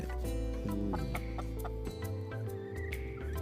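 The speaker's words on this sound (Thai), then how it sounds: "จะมีไก่โปแลนด์ขนสีขาวขนแบบขนเลี้ยนนะครับ ไปด้วยนะ" Polish chickens with white crested feathers and laying hens clucking close by in a coop, several birds overlapping in repeated short clucks and calls against steady background noise, no talking.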